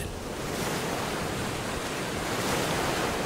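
Sea waves washing along the southern Vietnamese coast, a continuous broad hiss of surf with a slight swell, steady and fairly near, with no voices.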